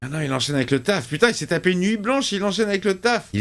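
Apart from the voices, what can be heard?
No everyday noises stand out.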